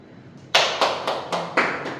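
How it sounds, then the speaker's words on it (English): A few people clap for a group, giving about six sharp, separate bursts that ring close and loud over a quiet room. No one talks. "round of applause for all of these guys"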